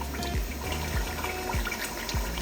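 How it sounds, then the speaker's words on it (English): Water is poured into a pot of stew during cooking, a continuous splashing, trickling flow with small repeated gurgles, close and fairly loud. "So I'll be adding more water first."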